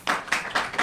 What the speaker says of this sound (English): Y'all give it a round of applause.